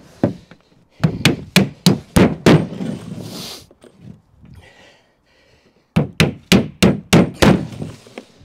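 A hammer drives a nail into timber wall framing for a garden room build, two rapid series of loud, sharp, close strikes separated by a quieter pause, with no talking.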